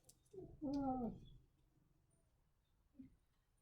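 A single soft bird call, cooing and dove-like, sounds once, followed by a faint shorter call in an otherwise quiet setting.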